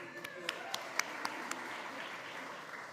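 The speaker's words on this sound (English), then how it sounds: "Give those a round of applause." Audience applause at the All Things Food summit at SXSW 2025, a handful of distinct, spaced claps standing out over a faint, fading patter, with a voice murmuring underneath.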